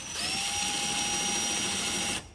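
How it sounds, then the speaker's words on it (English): A power drill whirs at a steady high pitch for about two seconds, close and loud, then stops abruptly, pre-drilling holes while installing an RV diesel water heater and furnace. "Okay, I need to pre-drill those."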